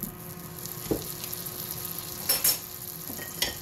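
About two tablespoons of butter sizzling in a hot Instant Pot before a prime rib roast goes in, a soft steady crackle broken by a few louder clatters and spatters.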